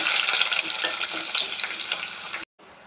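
Onions frying in a pan, a close crackling sizzle with light stirring taps that runs loud and then cuts off abruptly near the end, leaving faint quiet.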